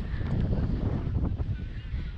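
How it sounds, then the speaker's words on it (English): Wind buffets the microphone on top of Mt Victoria, a steady loud low roar with gusty fluctuations throughout, no speech heard. "So windy up here."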